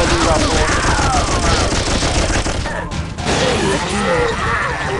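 Gunfire in the video game Munch's Odyssey: loud, dense bursts of rapid shots and crashing impacts that pile up continuously, with one brief dip near the middle.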